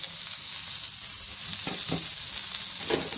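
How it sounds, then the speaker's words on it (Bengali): Onions frying in hot mustard oil in a pan, a steady broadband sizzle with a few brief crackling bursts and soft stirring scrapes, close and fairly loud, with no voices. "পেঁয়াজগুলো একটু তেলে নিই"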